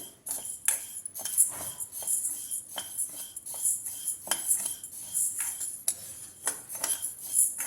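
Moong dal being roasted in a pan for kheer is stirred constantly, giving a run of sharp metallic scrapes and clinks from the spoon against the pan, repeated at an irregular rhythm, close and fairly clear with no talking.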